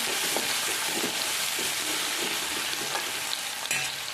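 Chillies and onion sizzle steadily in a hot pan, a dense continuous frying hiss with occasional soft stirring scrapes, close and fairly loud.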